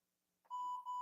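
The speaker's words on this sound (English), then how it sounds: "What's that beeping? The baby monitor." A baby monitor gives a sudden sharp electronic beep tone that sustains briefly with a slight dip, clear and prominent against a near-silent room.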